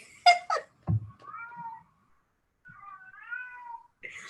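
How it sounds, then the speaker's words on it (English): A house cat meows close by in a few short calls, then gives two longer, drawn-out meows after a brief pause. "That's your cat."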